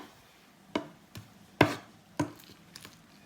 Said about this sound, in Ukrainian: Окей мушу нарізати так тонесенько-тонесенько.